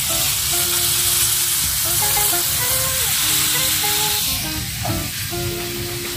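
Soy sauce poured into chicken adobo with potatoes sizzling in a pan, a steady loud frying hiss with bubbling and clinks of stirring throughout, no one talking.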